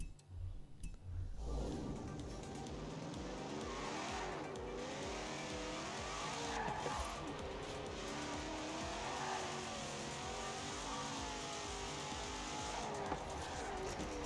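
A Twin Mill car in Forza Horizon 4 racing flat out toward 435 km/h, its engine a steady loud roar with rising and falling pitch and tire squeal, sustained and close with little talk.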